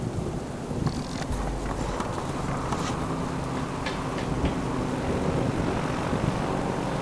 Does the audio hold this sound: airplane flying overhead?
yes